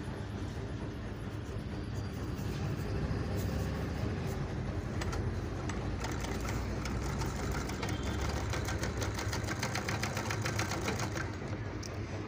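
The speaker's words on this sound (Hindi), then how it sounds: "देखिए हम सिलाई करके दिखाते हैं" An overlock sewing machine stitches in one continuous run, a steady dense mechanical whir with fast needle clatter. It is close and loud and fills the whole stretch with no speech.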